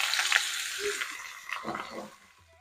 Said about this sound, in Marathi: हा ठेचलेला लसूण आणि त्यात आपण घालतोय हा फणस